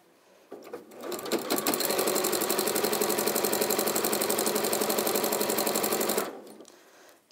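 A sewing machine runs a side seam in one continuous burst of about six seconds, a close, fast, evenly rhythmic mechanical chatter that starts and stops cleanly.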